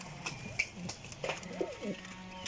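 Pigeons coo softly nearby in low, rolling calls, with a few faint clicks and rustles around them.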